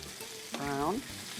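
Tortillas frying in a pan and being flipped over, a low steady sizzle with a brief clatter and a short swelling hiss midway.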